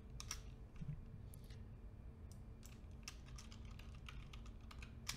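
Keys clatter on a computer keyboard during game-development work in Unreal Engine, a quiet run of uneven clicks over a low steady room hum, ending in a brief louder burst of keystrokes.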